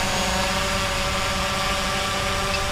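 DJI Mavic Pro drone lifting off for a precision takeoff, its rotors giving a steady, close, dense whine with tonal hum layers that holds evenly throughout, no talking over it.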